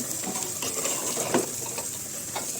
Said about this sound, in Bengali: তো মশলা বাটি ধুয়ে একটু জল দিয়ে দিল